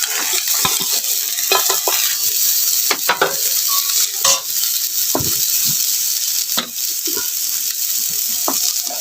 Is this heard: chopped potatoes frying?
yes